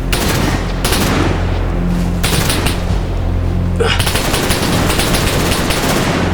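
Dense, continuous gunfire in the Wasteland video game, loud and close, with rapid bursts and heavy booms filling the scene while a voice talks over it.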